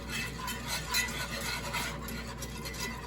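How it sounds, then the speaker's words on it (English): Gravy paste being whisked around a roasting pan after a spatchcock roast chicken, a steady dense metallic scraping and stirring that runs continuously at close range with no pauses. "Just start really whisking around."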